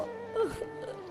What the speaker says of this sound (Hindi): देखो बच्चा रो रहा है